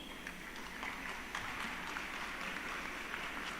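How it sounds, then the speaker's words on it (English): Audience applause welcoming a panelist onto a stage at a live panel event, a steady broadband patter of many hands held at an even, moderately distant level throughout. "Please join us in welcoming him with a huge round of applause"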